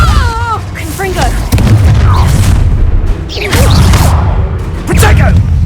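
A Confringo fire spell exploding in the Hogwarts Legacy video game, with booming blasts and whooshes repeating through a hectic duel while a voice shouts spell names over the action.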